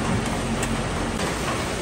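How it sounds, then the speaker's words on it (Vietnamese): Heavy rain pours down steadily during Typhoon Haikui in Taiwan, late at night, a loud dense wash of noise that holds an even level throughout. "có hiện tượng là mưa to hơn một chút các bạn nghe tiếng"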